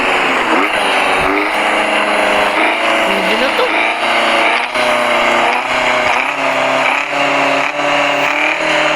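An abandoned BMW car's engine runs and revs steadily up close, a continuous loud mechanical drone with shifting pitch, while someone talks over it.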